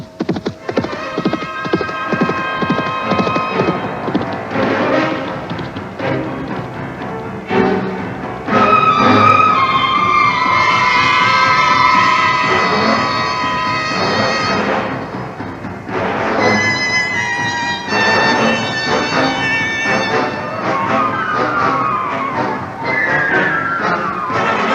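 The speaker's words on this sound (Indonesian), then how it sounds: "kuda itu berlari ke arah Madinah" Horse hooves pound in a steady galloping clip-clop for a radio drama sound effect, loud and continuous, with whinnies breaking in over the rhythm.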